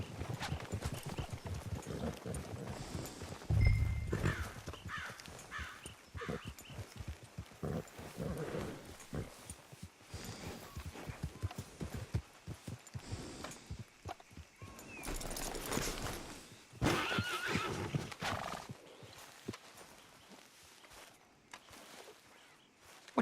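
Horses in Red Dead Redemption 2 clop along at a steady walk, hooves thudding repeatedly amid outdoor ambience, with occasional snorts and a brief whinny; no one talks.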